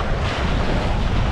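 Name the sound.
choppy river waves in the wind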